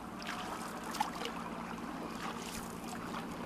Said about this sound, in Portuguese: nós vamos ter que ir com canoas a remo